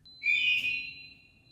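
An evening burglar alarm in the Stockholm Makerspace building, automatically activated, sounds a single high, steady electronic tone that swells briefly and then holds, clear over a quiet room.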